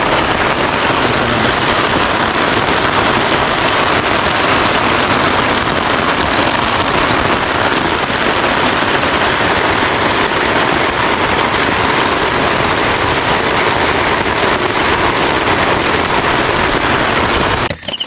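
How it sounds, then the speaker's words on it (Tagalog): Heavy storm rain pours steadily at a campsite in Tanay, Rizal, a dense, loud, unbroken hiss of drops drumming on a tarp shelter overhead, lasting throughout with no voices. "nagising kami, sobrang lakas ng ulan"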